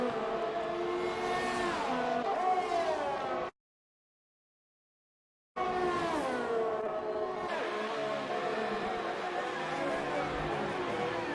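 Race cars in a racing video game at the Abu Dhabi finale, engines whining and rising in pitch through gear changes, heard as two steady stretches split by a short silent gap.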